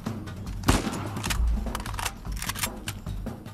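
Bursts of AK rifle fire from the Uncharted 4 video game, a string of sharp automatic shots spread across the clip at close range, loud against a busy game soundscape, no talking.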